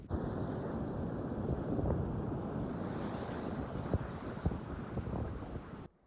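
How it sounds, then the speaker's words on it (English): Arctic river approaching Portage Rapids, a continuous broad roar of rushing water mixed with gusty wind buffeting the microphone, steady throughout before cutting off at the end. "Now we're coming up to Portage Rapids. I can hear it from here."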